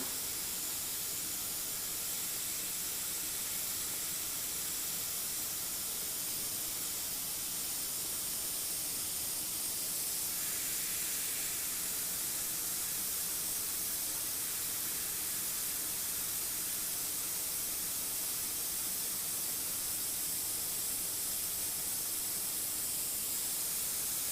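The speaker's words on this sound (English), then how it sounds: "So I've got some white in my airbrush now" An airbrush loaded with white paint sprays a steady, close hiss for a highlight while shading an eye, continuous and fairly quiet with no talk.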